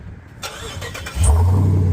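A car with an aftermarket exhaust cranks and starts, then settles into a deep, loud throaty idle rumble at close range.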